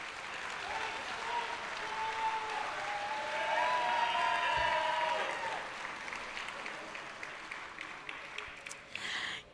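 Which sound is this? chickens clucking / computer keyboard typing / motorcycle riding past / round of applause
round of applause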